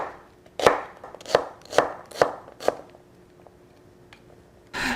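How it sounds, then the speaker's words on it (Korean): A knife finely chops an onion on a cutting board, five sharp evenly spaced thuds up close, then a pause and a brief scrape, with no talking. "양파를 잘게 썰어 주시고요."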